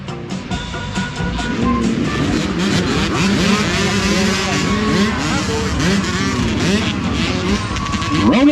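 Youth motocross bikes, including 65cc machines, rev together at a race start at The Old Mill Shed, a dense, loud, continuous chorus of buzzing two-stroke engines rising and falling in pitch.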